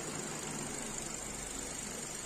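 A revived Renault 1.4 TCe petrol engine with a coolant-loss fault runs at a steady idle, a continuous faint hum and whir with no change in pace and no talking.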